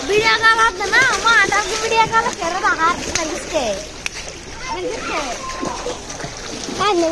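Someone wades through a flooded pond, water splashing and sloshing close by in uneven bursts while a person talks over it throughout.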